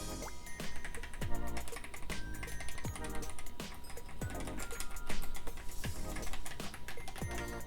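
Continuous clicky typing on a VSPO mechanical keyboard, brisk keystrokes close up with occasional heavier key thocks, no talking.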